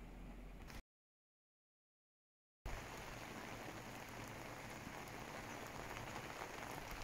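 Steady rain pattering on a surface, a dense continuous hiss broken by a brief gap of silence near the start.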